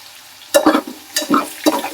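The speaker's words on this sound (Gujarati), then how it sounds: "પછી આપણે નાખશું લાલ મરચું પાવડર" Potato peel curry stirs and fries in a pan just after red chili powder goes in, heard as a few short bursts of scraping and sizzling separated by brief pauses, close and fairly loud.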